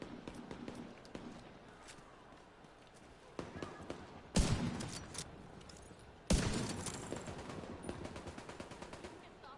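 Minigun fire in the video game The Division 2: sustained rattling bursts of automatic gunfire with two sharp louder blasts, heard at moderate distance amid game ambience.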